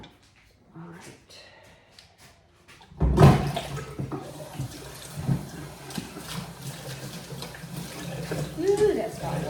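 Hot water running from a tap, a steady splashing gush that starts suddenly and keeps going, with a person talking over it.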